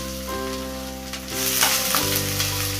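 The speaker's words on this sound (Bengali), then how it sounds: "তেলটা একটু গরম হয়ে যাওয়ার পর ওর মধ্যে আমরা আদা আর রসুনটা দিয়ে দিলাম" Chopped ginger and garlic sizzle in hot oil for a hot and sour soup, a steady close-up crackle that swells louder midway with stirring, over a low constant hum; no voices.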